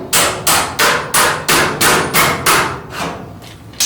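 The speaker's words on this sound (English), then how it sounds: "it's hard to get a hammer in there to tap it from that angle, so I put a screwdriver there" About ten sharp metallic taps of a hammer striking a screwdriver while reassembling a Kenmore dryer, evenly spaced and close, each ringing briefly before the next.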